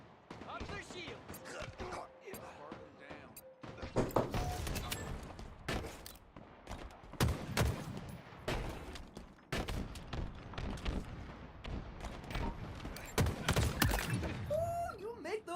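Rapid bursts of gunfire from a Halo match, many sharp shots in clusters alongside thuds and game effects, while a player talks throughout.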